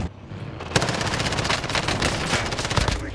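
Dense machine-gun bursts and rapid gunshots from a Warzone (Modern Warfare battle royale) firefight, loud and continuous after a short quiet lead-in, with no talking.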